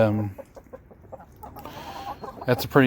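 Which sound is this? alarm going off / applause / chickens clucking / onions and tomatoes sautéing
chickens clucking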